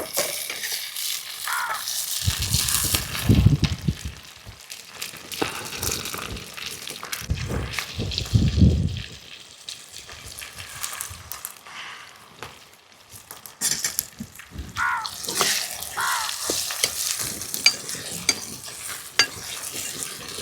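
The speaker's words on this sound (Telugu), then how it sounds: "ముందుగా తరిగి పెట్టుకుని టమాటా ముక్కలు వేస్తున్నా." Onions and chopped tomato pieces frying in a pan for a small fish curry, a loud continuous sizzle broken by repeated scraping and stirring strokes, close up with no voices.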